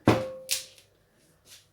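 A metal cooking pot is set down in a kitchen while Lahori chargha chicken is being prepared, giving one close clunk with a brief ringing tone, then a few faint taps.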